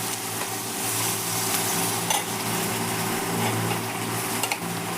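Onion fries in a pan for a shrimp brain fry, a dense, steady oil sizzle heard up close with faint stirring scrapes and a couple of soft utensil clicks, no voices.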